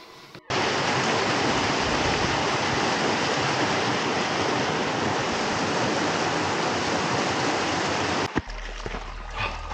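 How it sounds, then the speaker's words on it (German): Schwarzes Schluftwasser, a moorland brook in the winter Harz near Schierke, rushes loudly and steadily beside a snowy trail up the Brocken, a close, unbroken wash of water that cuts off abruptly near the end. "Rechts neben mir ist der Bach, schwarzes Schluftwasser, der oben im Moor entspringt und runter in die kalte Bode fließt"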